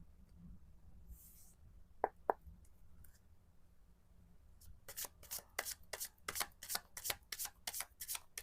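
Tarot cards riffle-shuffled close up, a rapid string of crisp papery flicks in the second half after a couple of quiet taps, with no talking.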